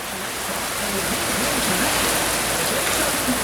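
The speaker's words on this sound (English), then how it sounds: "it's pouring rain here" Heavy rain pours down in New Mexico, a steady, dense, continuous hiss that stays loud and even throughout.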